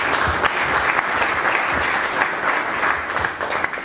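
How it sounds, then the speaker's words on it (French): An audience at a franchise business club gathering breaks into warm tribute applause, a close, steady wash of many hands clapping that holds its loudness throughout. "je pense qu'on peut l'applaudir comme ça"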